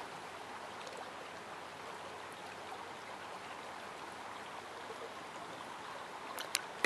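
The Purgatoire River near Trinidad, Colorado, flows in a steady broadband rush of running water, constant and moderately distant, with a few faint higher splashes near the end and no voices.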